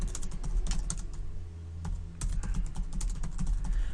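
Steady, close clatter of keys being typed on a computer keyboard, with a brief pause midway before typing resumes, no talking.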